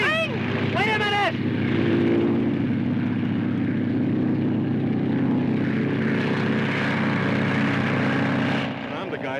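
A propeller airplane engine drones steadily and loudly at close range, with a couple of shrill whistling tones at the start and a fading tail at the end.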